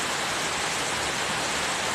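Strong floodwater rushes past without a break, a dense, loud, broadband roar from a flood rising up to a chapel. It sounds close and steady throughout.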